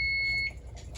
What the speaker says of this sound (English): our timer's about to go off